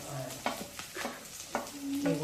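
Green chilies frying in a pan of hot oil for paneer manchurian, a steady low sizzle with scraping stirring strokes every half second or so, close by and alone.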